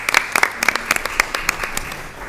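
A school board meeting audience applauds, with brisk, close hand claps in a steady patter that thins and softens toward the end.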